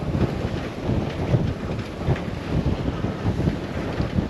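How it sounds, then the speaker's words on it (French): Steady wind buffeting and rushing water around a sailing boat heading into near-headwinds and head-on waves in the Greek islands, a continuous low roar with choppy wave surges and no voices. "Là, les vagues de face, le vent pratiquement de face."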